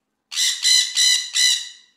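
A parrot lets out four rapid, raspy squawks in a tight, even burst, loud and close, with silence before and no talking.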